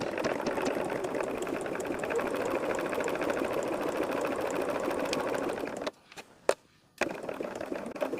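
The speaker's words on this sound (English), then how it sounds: "So I am going to sew this at a 1/4 of an inch." A sewing machine stitches a quarter-inch seam through pinned quilting fabric, running steadily with a fast, even whir for about six seconds, then stopping briefly with a few clicks before starting again.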